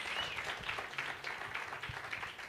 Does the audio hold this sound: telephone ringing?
no